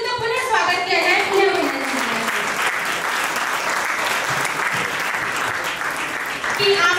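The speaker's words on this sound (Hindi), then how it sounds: "एक बार तालियों के धन्यवाद से उनका पुनः स्वागत किया जाए" Applause for poet Kuldip Rangila at a kavi sammelan poetry gathering: a loud, sustained crowd clapping that continues for the whole stretch, with a voice speaking over it at the start.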